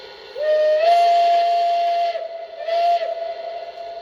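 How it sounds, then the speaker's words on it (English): A steady high-pitched Banshee steam whistle from a Lionel Long Island RR Camelback model train blows in two long blasts, the first sustained for nearly two seconds, then a shorter second blast, close and loud. "I like the Banshee whistle the most, so let's set it back to that."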